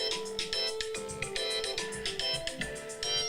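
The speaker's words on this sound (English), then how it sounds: "It's your phone, man." A mobile phone ringtone plays loud and steady for several seconds, a repeating bright electronic melody with pulsing beats and no voices over it.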